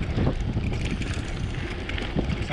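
Wind roars and buffets the microphone on a long-distance bicycle ride, a constant loud rushing across the whole moment with no pauses.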